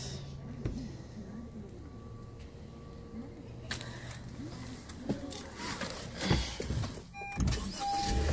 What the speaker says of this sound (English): When I shut the doors, you can hear how solid it is.